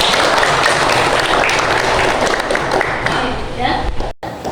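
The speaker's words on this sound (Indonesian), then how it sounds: "Oke, bagus ya, tepuk tangan." Pupils in a school classroom clap together in a dense, steady round of applause that fills the room, tapering off abruptly at the end.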